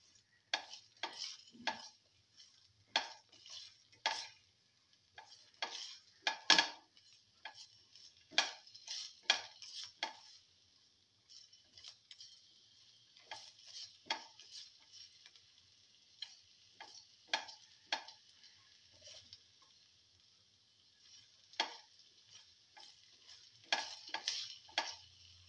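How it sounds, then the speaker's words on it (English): Okra and potato sauteing in a pan at home, with repeated scraping and stirring strokes and a soft sizzle underneath, close by and moderately loud, the strokes coming in irregular bursts with brief pauses. "Keep on sauteing."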